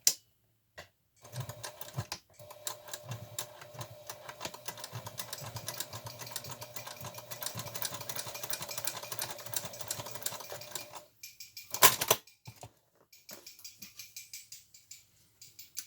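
A sewing machine stitches screen fabric for drying amaranth, running in a fast steady whirring stitch for several seconds before stopping, followed by a few short bursts, close and clear.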